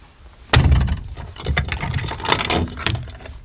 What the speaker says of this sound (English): break the cover of the green hammer receptacle with your fist.